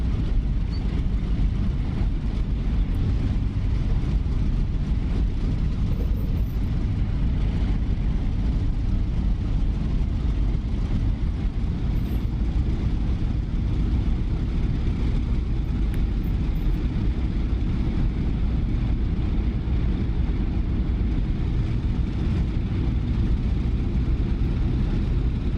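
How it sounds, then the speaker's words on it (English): P-47 Thunderbolt radial engine idling and taxiing in the DCS flight simulator, a loud, continuous low rumbling drone that stays steady and close throughout, with no talk over it. "let's pop our parking brake off and we'll taxi out and warm up the rest of the way on the taxi"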